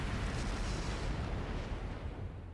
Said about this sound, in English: Flash grenade! Flash grenade!